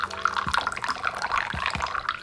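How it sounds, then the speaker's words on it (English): Moroccan mint tea is poured from a teapot into a cup, making a light, close trickle with small splashes and drips over about two seconds. "so we're gonna pour it out into a cup."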